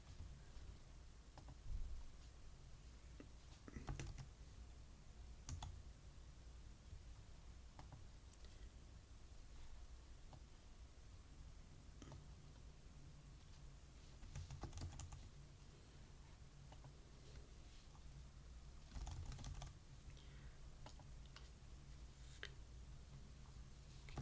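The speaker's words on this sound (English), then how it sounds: "Okay, now I'm going to start just typing in the name." Names are typed on a computer keyboard into statistical analysis software, a quiet, close run of soft key clicks arriving in short uneven bursts separated by brief pauses, with no talking.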